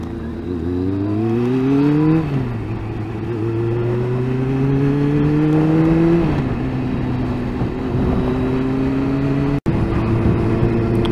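A motorcycle engine heard while riding near Loch Lomond, loud and close, its pitch climbing through the gears with shifts that drop it back, over steady wind and road noise.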